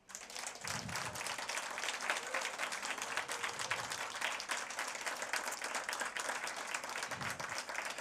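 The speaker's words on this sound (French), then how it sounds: "saluer chaleureusement, et j'insiste sur le chaleureusement, par vos applaudissements" Warm, sustained applause from an audience at a university gala award ceremony in Saint-Jérôme, steady dense clapping filling the whole stretch with a few low murmurs beneath.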